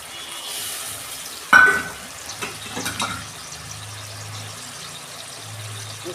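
Paste of white mustard, tomato and onion going into a hot pan of fried ginger-garlic for a katla fish curry, a sudden loud splash and hiss followed by quieter stirring scrapes and a fading sizzle.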